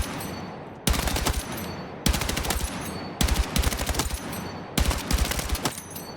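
Burst fire from the M27 IR rifle in Battlefield 6, four loud, rapid bursts of sharp reports, each clattering a second or so and then trailing into echoing reverb before the next one.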